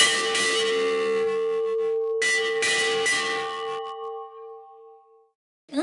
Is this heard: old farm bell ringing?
yes